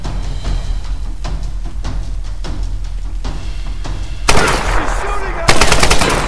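Rapid automatic gunfire in the 2013 Tomb Raider video game, sustained bursts of shots throughout with louder, denser volleys near the end, under faint game ambience.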